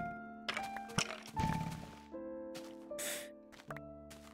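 Minecraft Beta 1.2_0 survival gameplay with several short thunking hit impacts landing over game background tones and scattered effects, with a player voice briefly reacting.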